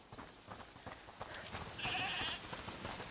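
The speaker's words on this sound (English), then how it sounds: "Is that the goat he talked about?" In the video game A Plague Tale: Requiem, a goat gives a short bleat at middle distance, faint against steady background ambience.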